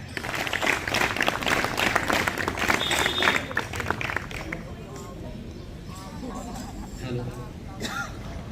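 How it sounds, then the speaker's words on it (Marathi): A crowd at a school Ashadhi Ekadashi dindi celebration claps loudly for about four seconds, then the applause fades and a voice speaks over a low murmur. "त्यांचंही आपण सगळ्यांनी जोरदार टाळ्या"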